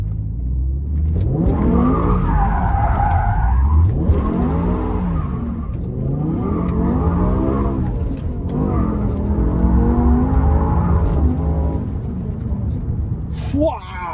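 A manual BMW M5 with a V10 engine roars and rises and falls in pitch through a spin, with tyre noise throughout and someone talking over it.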